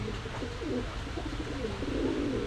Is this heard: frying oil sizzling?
no